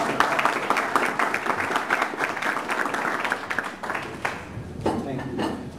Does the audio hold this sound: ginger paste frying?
no